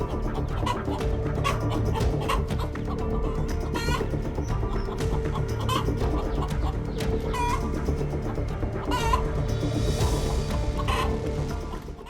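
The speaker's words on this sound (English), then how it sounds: "The flock of chicks is engrossed in foraging under their mother's supervision" Hen with her brood of chicks foraging, soft repeated clucks and chick peeps over a steady outdoor background, with faint crowing-like calls and brief bird sounds scattered throughout.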